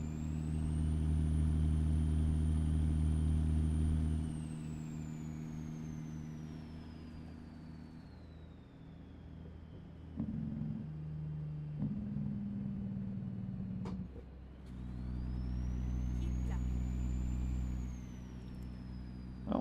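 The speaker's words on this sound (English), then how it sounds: "This 3406 Caterpillar engine definitely has a good sound to it." A heavy Caterpillar 3406 diesel truck engine in American Truck Simulator drones and rumbles, its pitch rising and falling with throttle, with turbo whine on top and a brief drop to idle midway.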